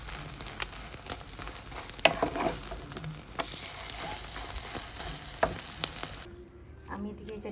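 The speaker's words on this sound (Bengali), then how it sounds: "চিন্তা করলাম ডিমটাও ভাজি করে ফেলি।" An egg frying in a pan with oil, a crackling, popping sizzle close by with scattered sharp spits, cutting off abruptly near the end to a quieter room.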